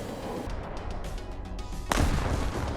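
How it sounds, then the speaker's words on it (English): An AIM-7 Sparrow missile striking an aircraft in War Thunder: a sharp, loud explosive crack near the end, following a stretch of engine noise and faint rattling. "The missile's literally still attached to his aircraft when it hits me."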